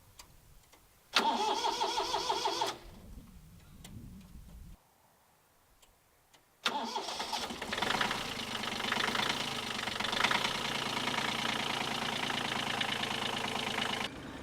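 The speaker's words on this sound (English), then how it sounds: "A little old tractor with a backhoe." A small old tractor fitted with a backhoe starts and then runs steadily up close, its engine chugging loudly with a ticking knock after a brief first burst and a short silent gap.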